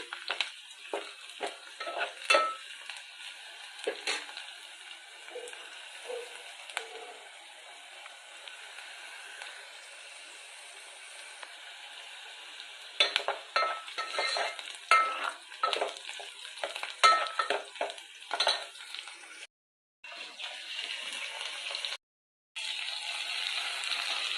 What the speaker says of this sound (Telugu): హై ఫ్లేమ్ మీద వీటిని ఇప్పుడు మనం ఫ్రై చేస్తున్నామండి